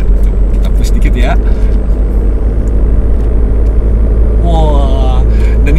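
A Lexus petrol car is pushed hard through a corner on a race circuit, its engine giving a loud, steady droning rumble with rising revs, while people talk inside the cabin over the noise.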